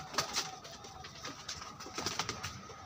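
Pigeons kept for sale coo in soft, repeated throaty calls, several birds overlapping at close range against a quiet background, with no talking.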